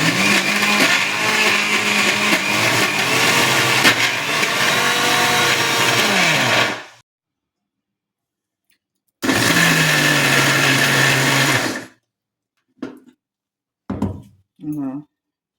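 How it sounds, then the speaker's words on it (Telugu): A mixer grinder whirs loudly through ginger and jaggery chutney in two long grinding bursts separated by silence, followed by a few short knocks and taps. "అవి వేసుకున్నవన్నీ గ్రైండ్ చేసుకుంటున్నాం."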